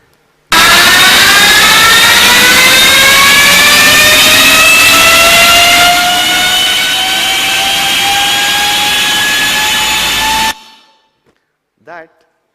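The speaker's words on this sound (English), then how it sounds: "is not a jet engine. It's actually the Ultraviolette F-77." Ultraviolette F-77 electric motorcycle at speed, a loud sustained whine with rising tones that climb steadily for about ten seconds like a jet turbine, then cuts off abruptly.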